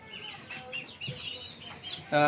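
Young chicks sick with coryza virus cheep and cluck in quick, high calls that come and go, ending in a sudden louder burst of chirping.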